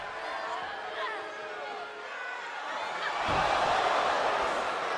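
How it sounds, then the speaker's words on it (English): At an AWL Strong & Free women's wrestling show, a Sumatran Stomp lands with a heavy thud that is followed by a swelling crowd roar, and before the impact a commentator talks over a murmuring arena. "you could hear that thud, you could hear the crowd reaction"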